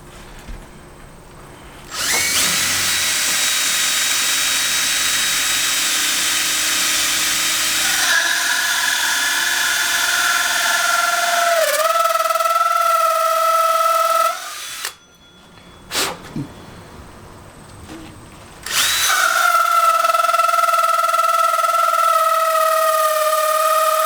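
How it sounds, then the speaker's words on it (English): A power drill bores through a plywood skateboard deck for a DIY slingshot, whining loudly and steadily from about 2 seconds on, its pitch shifting as the bit bites, with a brief stop near 15 seconds before it spins up again, close and alone. "So we're going to go right ahead and bore this out."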